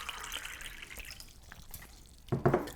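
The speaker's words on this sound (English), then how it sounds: "I gotta get some cold water from the fridge" Cold water from the fridge trickling and dripping, a few faint soft drips, then a short louder splash of pouring near the end, in a quiet kitchen.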